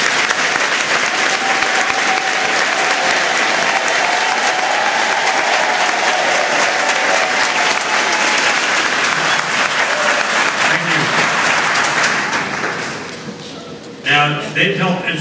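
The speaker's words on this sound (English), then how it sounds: "So why don't you stand and give them a round of applause." A standing audience applauds Citizen Police Academy graduates, a long, loud, dense wave of clapping that tapers off near the end before a voice begins speaking.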